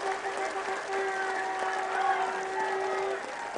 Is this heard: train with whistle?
no